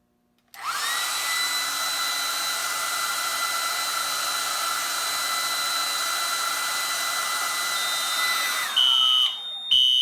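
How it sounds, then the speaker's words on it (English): A hair dryer blows steadily at close range into a heat detector during a fire alarm system test, a loud continuous whine and rush of air that runs unbroken until it cuts off, followed by a brief high beep. "test the heat detector with a blow dryer"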